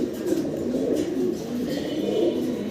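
A caged pigeon coos softly and continuously, a low warbling murmur heard up close with no talk over it.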